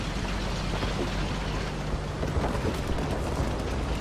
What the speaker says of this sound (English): that was a beautifully animated explosion and that ammo detonation was